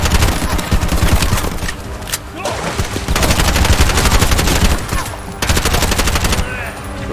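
Sustained bursts of rapid automatic gunfire in the shooter video game Bright Memory: Infinite, loud and dense, with brief gaps between volleys.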